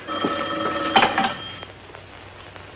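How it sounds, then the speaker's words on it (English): An old-fashioned telephone bell rings in a comedy show setting, a loud metallic jangle lasting about a second and a half before fading into quiet room tone. "I think I better answer that phone"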